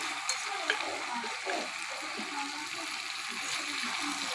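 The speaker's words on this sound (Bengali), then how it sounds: "ভালো করে নেড়ে চেড়ে নিচ্ছি।" Jackfruit and prawn curry stirred in a frying pan, a soft steady sizzle with faint scraping of the spoon, close and quiet throughout.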